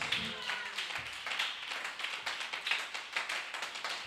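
A church congregation clapping for Jesus Christ, steady rhythmic applause with a voice audible under the claps.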